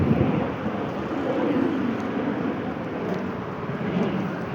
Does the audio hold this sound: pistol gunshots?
no